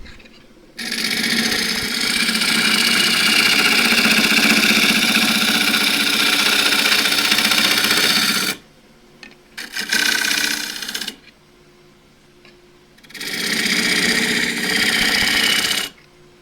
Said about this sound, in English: I can true that up with a shear cut back to the middle